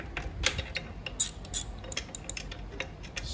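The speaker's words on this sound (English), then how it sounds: "And I'm going to torque this down." A wrench ratchets as a bolt is torqued down during belt tensioning on a Famag IM-5/8/10 spiral dough mixer, giving quiet, irregular clicks and ticks spread over a few seconds.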